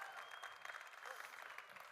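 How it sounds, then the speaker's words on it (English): Faint, distant audience applause for finalists at a coffee festival competition, a soft continuous patter of clapping from a crowd. "big applause for the 4 finalists"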